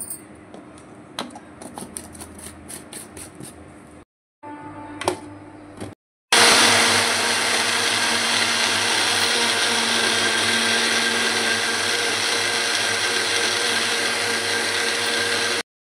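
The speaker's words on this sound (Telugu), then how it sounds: "మనం మిక్సీ బట్టి తీసుకున్నాం." A kitchen mixer grinder blends mango lassi. After a few clicks and taps and a brief start, the motor runs loud and continuous, a steady close whirring that lasts about ten seconds.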